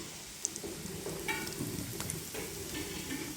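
Pumpkin and cornflour fritters dropped into hot oil, frying with a soft, steady sizzle and light crackle plus occasional stirring clinks, close by.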